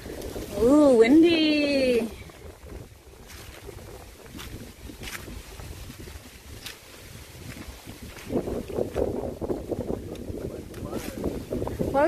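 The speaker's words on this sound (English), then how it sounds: "Ooh, windy." Wind gusts blowing across a microphone at a regional park beside water, a steady rumbling buffet that swells louder in the second half, with a voice exclaiming near the start.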